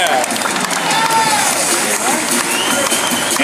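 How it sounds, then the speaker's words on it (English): A crowd at a celebrity softball all-star event applauds and cheers in a dense, continuous wash of clapping and shouting, with voices mixed in throughout. "Let's give a big round of applause for Felipe Erazo"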